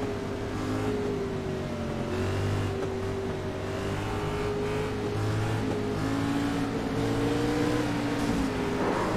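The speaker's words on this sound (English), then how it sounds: "go into his cockpit here and listen to his throttle" A race car engine in a video game Daytona 200 race, heard from the cockpit, holding a steady, buzzing drone with slight pitch shifts as the throttle eases and opens, loud and continuous.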